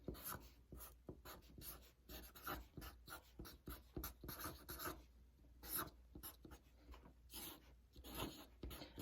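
Someone writes out a math expression by hand, a steady run of close, scratchy pen strokes with brief pauses between marks and no talking.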